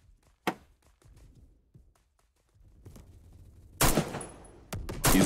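Burst gunfire in the shooter game Phantom, heard as a sharp early shot, quiet clatter and handling, then loud dense volleys near the end, close and unaccompanied by talk.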